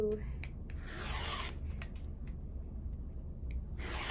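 Fabric strips are cut for the binding of a quilted bag. Faint, close scraping and rubbing strokes come in short bursts with a few small clicks, and the setting is otherwise quiet.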